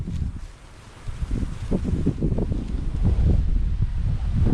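Strong wind buffets the microphone in rumbling low gusts that build steadily louder, with no speech over it.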